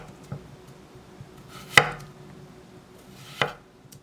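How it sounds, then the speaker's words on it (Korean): A knife chopping a small potato on a cutting board, a few sparse cuts with two distinct sharp knocks against the board, close and clear, no talking. "감자 작은 거 1개는 이렇게 썰고"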